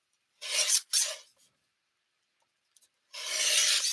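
Card paper being trimmed for a handmade greeting card: two quick rasping cuts close together, then a longer steady scraping pass after a short pause, close and fairly loud with no talking.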